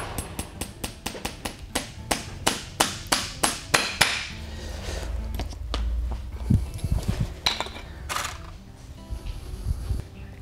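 A steady run of sharp metallic hammer strikes driving nails into a horseshoe on a horse's hind foot, roughly twice a second, then quieter scattered taps and knocks; close and clear, no talking.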